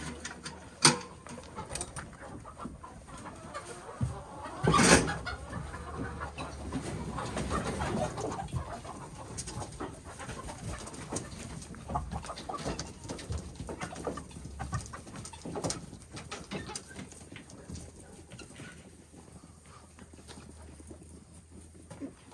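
Chickens cluck and murmur in a quiet coop, with scattered soft calls, a few sharp knocks, and occasional wing or shuffling noises throughout.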